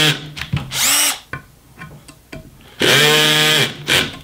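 A Festool 10.8V TXS cordless screwdriver drives a Spax screw in two loud whirring bursts, the second longer, with short clicks and handling noises between them.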